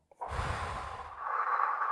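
One deep, slow breath is drawn in and let out during a breathing exercise, close and clear against near silence, ending in a long airy exhale.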